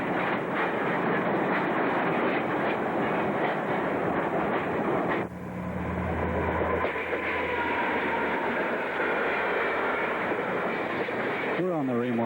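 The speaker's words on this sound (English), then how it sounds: "we watch train number 512 as it makes its way back towards the Raymore subdivision and the Ontario Northland Railway main line" A freight train on the Ontario Northland Railway rolls past nearby on a winter day at Swastika Junction, with a loud continuous roar of wheels and rail clatter, then a faint squeal near the end.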